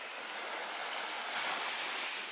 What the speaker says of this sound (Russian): Море, море, благословенное море.